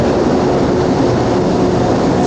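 Montreal metro train rolling near Olympic Stadium station, a loud, steady rumble and whine of the carriage running continuously without breaks.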